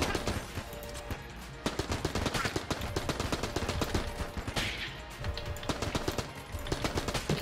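Rapid gunfire bursts crackle steadily from weapons in the video game Enter the Gungeon, with shots repeating in quick succession and no one talking.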